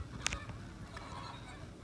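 Caribbean flamingos at Chester Zoo give a few faint, goose-like honks, with one brief sharper call standing out early. The calls sit low against a steady background murmur of zoo ambience.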